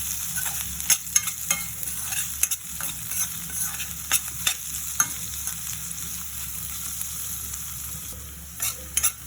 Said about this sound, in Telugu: కొంచెం డ్రై ఫ్రూట్స్ పౌడర్ కూడా వేసుకొని బాగా కలపాలి